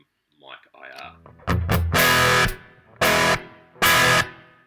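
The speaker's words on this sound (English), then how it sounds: "if you listen for that decay after the chord, you can actually hear it" An electric guitar through a Line 6 Helix Marshall-style amp preset with room reverb. A brief voice at the start gives way to three loud, distorted chord stabs, each followed by a short reverberant decay tail.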